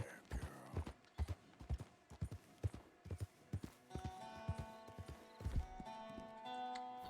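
Horse hooves clip-clop in an irregular walking rhythm, a series of moderately close thuds over a steady background hum, with a short neigh and some faint voices mixed in.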